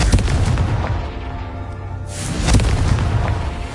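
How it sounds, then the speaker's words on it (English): The Confringo fire spell erupts in Hogwarts Legacy as loud booming blasts, with a strong low rumble throughout and a fresh explosive burst midway followed by more rolling booms. "Confringo."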